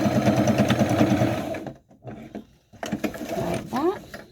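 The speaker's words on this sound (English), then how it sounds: "we're just gonna sew these pieces up here" Sewing machine stitching pieces of a NICU graduation gown, a fast rhythmic whir for about a second and a half, then pausing before shorter mechanical bursts, close and loud, with a voice talking in between.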